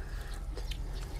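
A chicken clucks faintly over a steady outdoor background hum, with no one talking.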